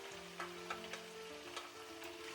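Food frying in a wok over low to medium heat for Kung Pao chicken, a soft even sizzle with a few light crackles and scrapes, fairly quiet and close.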